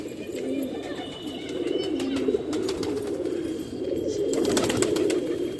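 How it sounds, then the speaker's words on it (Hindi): Pigeons coo steadily in a flock while some peck at soil in cold weather, a soft, overlapping rolling murmur of low calls close by, with occasional light rustles and faint background clatter. "कुछ कबूतर यहाँ पे मिट्टी खा रहे हैं"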